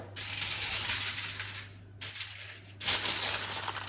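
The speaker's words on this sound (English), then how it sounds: "And then we're going to cover that with foil." Aluminium foil crinkles and crackles loudly up close as it is pressed over a dish of cheesy mash, in three bursts separated by brief pauses.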